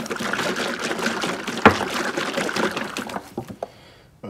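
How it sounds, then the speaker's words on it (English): A container of wood finishing oil is shaken thoroughly, giving a continuous sloshing, rattling liquid sound. One sharp knock lands partway through, then the shaking slows into a few scattered bumps before stopping. "And shake container thoroughly."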